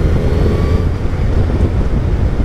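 Hayabusa motorcycle cruising in fourth gear at 60 km/h, a steady low engine drone mixed with heavy wind rush, loud and continuous throughout.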